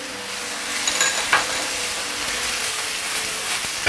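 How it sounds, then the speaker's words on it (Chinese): Meat with ginger, garlic and shallots stir-fried over maximum heat in a wok, a steady close sizzle and hiss with scraping stirring and a brief louder clatter near the middle. "还是开最大火一起炒它"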